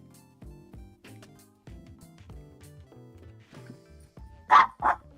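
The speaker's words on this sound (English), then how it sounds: "My dog's getting feisty." A dog barks twice in quick succession near the end, loud and close, after a stretch of soft indoor background with no talking.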